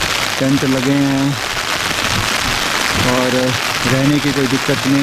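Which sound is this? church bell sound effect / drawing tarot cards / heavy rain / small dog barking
heavy rain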